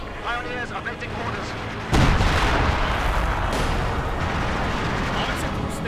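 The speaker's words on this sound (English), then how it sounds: "Artillery continues to fire madly." Artillery barrages and gunfire erupt in Company of Heroes 2, a dense, continuous rumble of booms that jumps sharply louder about two seconds in, with a voice talking briefly at the start.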